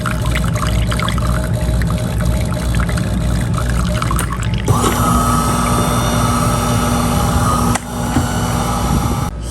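A De'Longhi coffee machine being repaired for a water fault runs its pump, a steady mechanical drone joined midway by a higher whirring hum and gurgling water flow, loud and close throughout.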